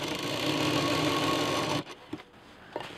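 Sewing machine stitching a fabric piece for a double zipper pouch, a steady close whirring run that stops abruptly, followed by a few faint handling clicks.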